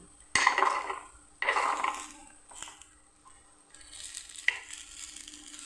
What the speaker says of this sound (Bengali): আপ্যামটা হয়েছে কি না ঢাকনগুলো একটু উল্টিয়ে দিই